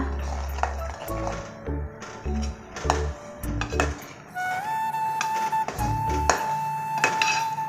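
A utensil stirs milk in a metal pot while mozzarella is being made, giving repeated scraping and clinking metallic strikes in uneven rhythm, close by, with a ringing tone and brief lulls between strokes.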